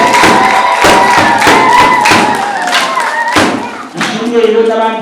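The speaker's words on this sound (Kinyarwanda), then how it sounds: "tubaha amashyi n'impundu" A crowd applauding and ululating for students at a Saint Vincent Pallotti feast-day Mass at an academy, with loud rhythmic clapping bursts and high trilling cries close by, and voices mixed in.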